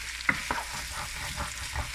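Tomato paste being stirred in a cooking pot for Haitian conch (lambi) in sauce, with soft scraping strokes and a quiet sizzle of frying underneath, a couple of sharper clicks of the spoon against the pot, no talking.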